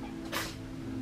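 A single quick sneeze bursts out once in a gift shop, brief and fairly close, over a quiet room hum.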